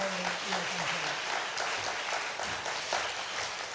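A church congregation at a Sunday worship service applauds, broad dense clapping lasting throughout at a fairly even level, with some voices mixed in.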